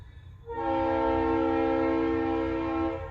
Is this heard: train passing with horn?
yes